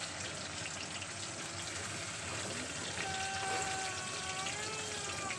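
Cauliflower pieces frying in hot oil until reddish-brown for a potato-cauliflower curry, giving a steady close sizzling hiss throughout, like rain on a surface, with a faint tonal whine entering in the latter half.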